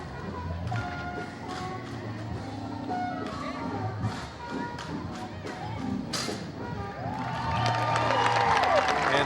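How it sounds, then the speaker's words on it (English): A parade crowd watching a ROTC drill team demonstration at a Memorial Day parade in Scotch Plains–Fanwood claps and cheers, swelling louder toward the end, with scattered thuds from the marchers and a commentator talking over it. "much to the applause of the crowd here as the drill team is continuing their act"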